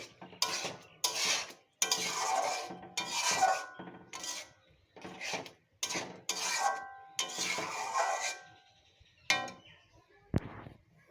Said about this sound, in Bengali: ঘি দিয়ে এখন একটু নেড়ে চেড়ে এটা আমি নামিয়ে নেব।